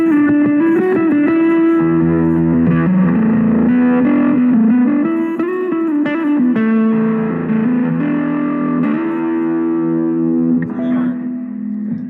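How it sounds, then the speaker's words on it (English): Electric guitar run through a Searchlight distortion pedal with a Dirty Boost engaged, playing sustained distorted chords and shifting bends, loud and upfront with no talking. "That's with the Searchlight distortion and the Dirty Boost on."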